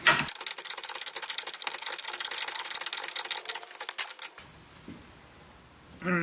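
A wrench rapidly clicks as it tightens a bolt on a Mitsubishi Eclipse lower lateral control arm, a dense close ratcheting run lasting about four seconds before stopping into quiet.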